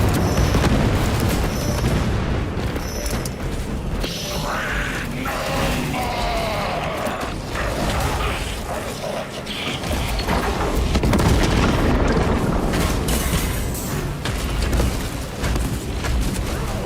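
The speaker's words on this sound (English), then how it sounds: "Deploy frag grenade!" A frag grenade detonates during combat in Warhammer 40,000: Space Marine 2, a heavy boom amid sustained gunfire and rumbling battle noise, loud and close throughout.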